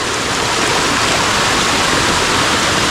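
Heavy monsoon water rushes through a forest stream at Waghdara in the Konkan countryside, making a loud, steady, close roar of churning flow with no break.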